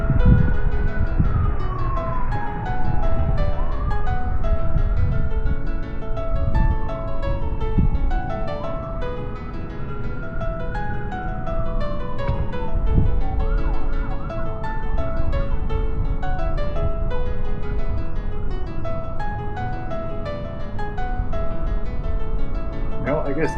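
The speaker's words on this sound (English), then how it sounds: "Siren" A distant emergency siren wails in long rising and falling sweeps under household talk, with people speaking throughout.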